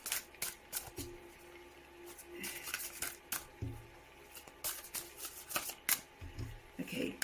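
Tarot cards are shuffled and handled close up, with riffling bursts, soft slaps and card flicks coming in an uneven rhythm, while a voice murmurs quietly underneath.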